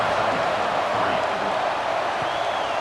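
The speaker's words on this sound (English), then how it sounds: "this crowd is buzzing after that last score" A stadium crowd in the College Football 26 video game keeps up a loud, steady roar and buzz, continuous broadband noise with no breaks.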